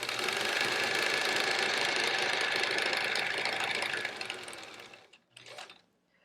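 A sewing machine stitches rainbow triangle quilt pieces in a fast, steady mechanical run that slows and stops, followed by a brief quieter burst.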